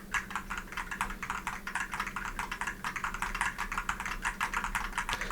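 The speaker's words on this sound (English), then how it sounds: "I'm gonna go ahead and type on my keyboard here really quick." Rapid typing on a computer keyboard, recorded close through a SteelSeries Alias microphone: a steady stream of crisp key clicks in a fast, slightly uneven rhythm, heard alone over a quiet background hum.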